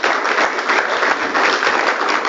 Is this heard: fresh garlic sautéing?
no